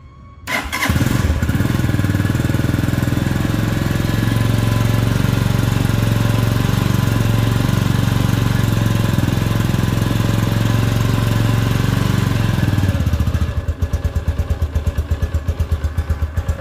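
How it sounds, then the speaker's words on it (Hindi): A 2024 Super Star 200 motorcycle with a custom exhaust fires up and runs loudly and close with a steady throbbing rumble, then settles into a lower, pulsing idle for the last few seconds. "अभी हम आपको चेक करवाते हैं इसका साउंड हम इस बाइक को ऑन कर लेते हैं"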